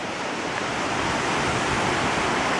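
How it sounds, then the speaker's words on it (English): A river flowing through a wide mountain gorge below, heard as a steady, loud broadband rush of water with wind mixed in, constant and without any voices. "There's the river below."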